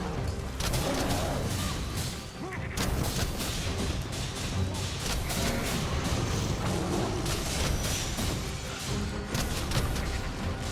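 An archer's Barrage skill in the Dragon's Dogma 2 video game, a dense, loud, continuous volley of booming, thudding impacts and whooshes rolling on without a break for several seconds.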